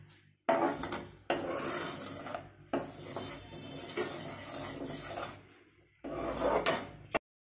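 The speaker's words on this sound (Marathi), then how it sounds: "खसखस तडतड करायला लागली की समजायचं खसखस भाजली गेली" Poppy seeds rattle and crackle while dry roasting on a pan, stirred and scraped, several bursts of gritty scratching separated by short pauses.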